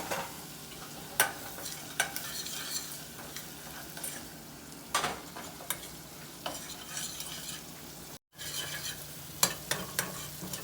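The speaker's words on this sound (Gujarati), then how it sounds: "આ મસાલો શેકાય ને પછી નાખવાનો બટાકાના માવામાં" Garam masala frying in a pan for vada pav filling, a quiet sizzle under repeated sharp spoon scrapes and stirs, with one brief gap.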